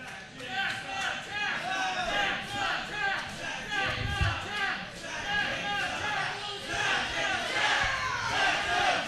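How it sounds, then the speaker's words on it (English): Wrestling event crowd in Salt Lake City, Utah, roaring and cheering continuously and loudly for the full length, a dense wall of voices with shouted cries rising and falling. "This crowd is ecstatic right here in Salt Lake City, Utah"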